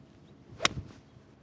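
A single sharp, crisp crack of a 7-iron striking a golf ball, close and isolated against quiet outdoor background.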